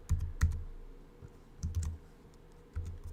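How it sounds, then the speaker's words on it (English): Fingers typing a website name on a computer keyboard, quick bursts of clicky keystrokes in three short clusters separated by brief pauses, close and clear with no talking. "So I'm just going to type in mine."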